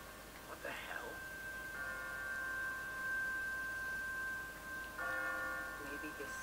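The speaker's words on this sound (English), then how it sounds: "What kind of church bell goes off at 20 past the hour?" An automatic church bell on a timer rings in the Walking Dead video game, giving sustained ringing tones that strike twice over quiet ambient background, moderately faint.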